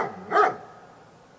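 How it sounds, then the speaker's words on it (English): A dog gives a single short, close bark, a sharp yelp-like burst followed by quiet background. "Dog makes the sound."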